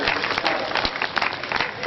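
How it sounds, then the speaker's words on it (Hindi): Audience at a Hindi comedy poetry gathering claps loudly and steadily, a brief dense burst of applause. "एक बार जोरदार तालियों से मुझे आदेशित कर दें।"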